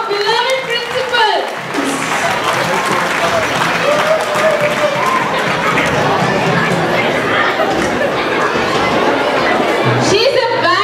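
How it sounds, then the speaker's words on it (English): A school crowd at an annual day bursts into applause and cheering for the principal, dense sustained clapping that fills the hall, with a voice speaking at the start and end. "Everybody, big round of applause for our principal, our beloved principal."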